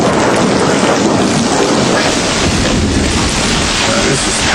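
A violent night thunderstorm with heavy rain pours down in a loud, dense, unbroken roar, with deep rumbling underneath throughout and no voices.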